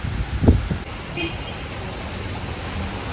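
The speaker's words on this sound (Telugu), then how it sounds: "చూడండి వర్షాలు ఎలా పడుతున్నాయి" Heavy rain pouring in Kuwait, a steady wash of falling water hissing throughout, with a brief thump near the start.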